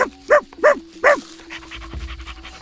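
A hunting dog pants in a forest, with several loud, close, rhythmic breaths in quick succession, followed by quieter rustling movement.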